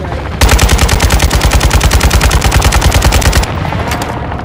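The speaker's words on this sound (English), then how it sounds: "Friendly airstrike on the way." A friendly airstrike in a Call of Duty battle royale match comes through as a loud, rapid, steady stream of automatic-fire bursts lasting about three seconds, then cuts off to a lower background rumble.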